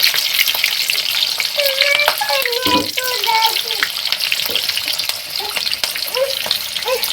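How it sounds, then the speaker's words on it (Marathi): Green chillies fry in hot oil alongside crispy onion bhaji, giving a continuous loud bubbling sizzle with occasional stirring sounds and no talking. "त्यामुळे आपल्याला मस्त आहे ना असं तळून घ्यायचं मस्त कुरकुरीत भजी आणि त्याबरोबर मस्त तेलामध्ये तळलेले"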